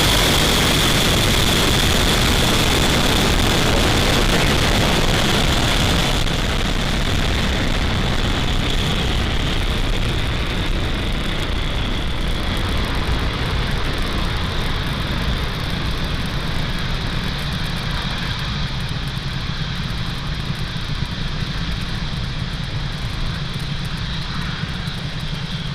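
Falcon 9 rocket at liftoff on a Starlink launch, a loud, continuous broadband engine roar that fills the whole span, slightly softening after the first few seconds but staying dense and rumbling.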